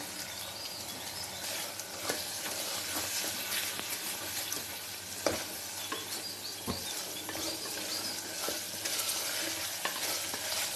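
Curry leaves and coriander added to frying onions and tomatoes for a mutton keema cutlet mixture, a dense continuous sizzle with occasional sharp spatula knocks and clicks, close and steady, with no talking.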